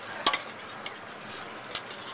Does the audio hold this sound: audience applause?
no